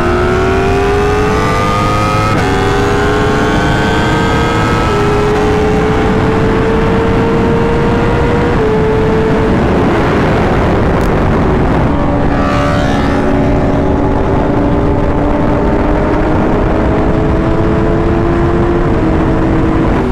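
A Yamaha R1 and a BMW S1000RR sportbike launch and race flat out, their loud, high-pitched engine howl climbing steadily with several clear gear-shift drops, wind roar building throughout.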